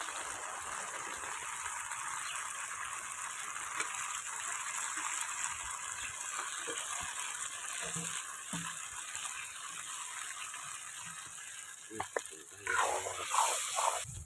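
Previously fried figs hit a hot pan while cooking a village-style fig curry, giving a steady broadband sizzle that holds for the whole stretch, with a few louder crackles and stirring clatters near the end.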